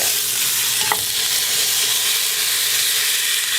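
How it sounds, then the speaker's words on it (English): Beef shank sears in a hot pan with a loud continuous sizzle and hiss, close up, with a faint clink of a utensil near the start and no speech. "I'll go ahead and let this one be browning on the side while that one lays flat on the bottom."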